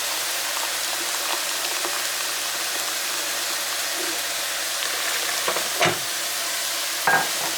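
Ground pork frying in a pan, a steady low sizzle with occasional scrapes and stirring clunks near the end.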